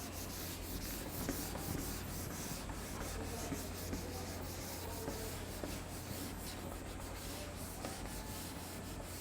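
Steady dry rubbing of writing being wiped off a board, a continuous scratchy swish with faint rhythmic strokes, moderately quiet and close, no voices.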